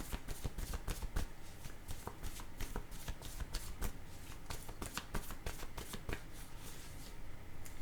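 Oracle cards being shuffled by hand, a run of quick papery riffles and taps, close and fairly quiet, with no voices.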